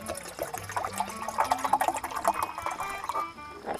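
Water pours and splashes into a container at a camp during a D-Day 101st Airborne reenactment outing, a steady close trickle with gurgling swells for a few seconds.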